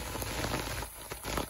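Steady winter rain falling on a surface, a dense continuous patter with scattered nearby drops standing out, fairly close and even in loudness, with no voices.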